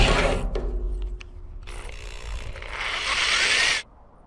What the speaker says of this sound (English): Next, I'm drilling a small hole slightly to the side of the big hole we just drilled.